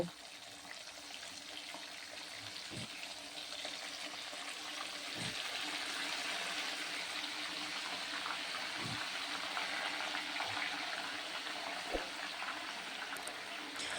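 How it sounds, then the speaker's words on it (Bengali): Chicken pieces fry uncovered in hot oil, a continuous soft hiss and bubble with a few dull knocks spaced several seconds apart, fairly quiet and steady throughout. "সেগুলো এই একই পদ্ধতি অবলম্বন করে আমি ফ্রাই করে নেব"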